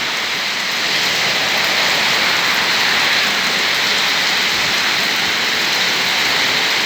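Heavy storm rain pours down near a field hut, a loud, continuous hiss of rainfall that holds steady and close throughout, with no voices over it.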